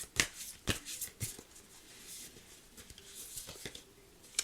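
Tarot cards are shuffled close up in a quiet room, a run of soft riffling flutters and taps in short, uneven bursts.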